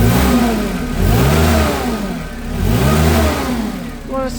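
A Clark S30L forklift's 4-cylinder engine, about 5,500 hours old, revs up and down in repeated swells from a steady idle, loud and close, with quick rises and falls and no voices.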